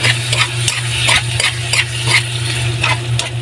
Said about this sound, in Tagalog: So, ilagay na natin yung ating dalawang egg.